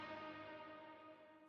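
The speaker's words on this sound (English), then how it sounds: "to record reverse reverb sweeps, as you can hear right here" A reverse reverb sweep recorded in Edison within FL Studio for a liquid drum and bass track, heard as a quiet, smeared tonal wash with a bell-like ring that hangs and slowly thins out.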